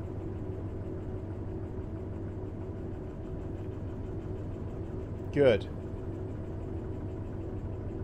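Freight locomotive hauling a heavy log train in the Derail Valley simulator, a steady low rumble of moving rolling stock throughout, with a brief louder clank near the middle and people talking over it.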